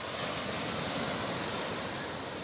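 Surf at Manora beach in Karachi rolls as a continuous broad wash of breaking waves, steady and fairly close with wind, no voices.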